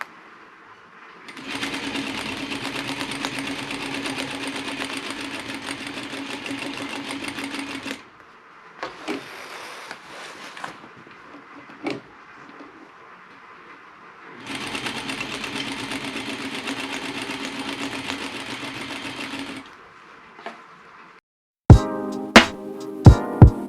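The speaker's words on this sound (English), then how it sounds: "I'm sewing with a 1/2 inch seam allowance." A sewing machine stitches a clutch bag with a half-inch seam allowance, running in two long steady bursts of rapid whirring separated by short pauses and small handling clicks, with a few sharp knocks at the end.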